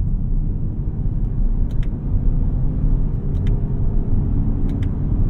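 Steady low engine drone and road rumble heard from inside a car with a CVT while driving, continuous and moderately loud, with a few faint clicks and no talking.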